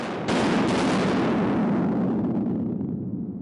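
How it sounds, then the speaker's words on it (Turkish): A blast goes off in a rock salt mine, a sudden loud boom that swells into a long roaring rumble, then slowly decays as debris settles, with no voices over it. "ilk madenimizi havaya uçurduk"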